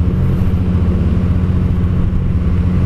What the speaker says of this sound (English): he's got an exhaust on here that sounds really good